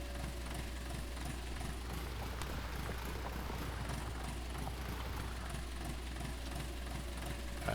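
A tractor engine straining under a heavy plow in Farming Simulator 19, a continuous low droning rumble that holds steady throughout with no voices over it.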